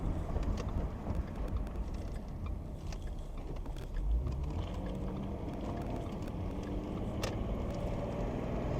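Cabin of a 2014 Ford Mustang with a 3.7L V6 on the road, a steady low engine and road rumble filling the interior at an even level throughout, with no talking.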